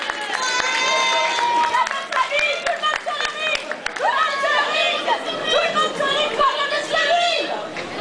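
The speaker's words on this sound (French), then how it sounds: "On va applaudir une dernière fois tous les catcheurs qui sont venus." Audience at the Paris Manga convention applauding the wrestlers after a catch show, a dense, steady patter of clapping with crowd chatter and a voice over a hall PA running on top throughout.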